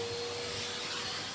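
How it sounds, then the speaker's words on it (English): A vacuum cleaner hoovers out the inside of a Stanley Oisin 6.5kW cast iron wood burning stove, a steady loud close-up roar with no break. "hoover the inside out."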